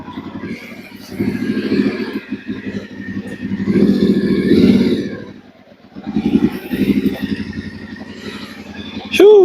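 A Yamaha Ténéré motorcycle rides past, its engine note swelling to a close, loud peak and then easing off before rising again. People talk over the engine throughout.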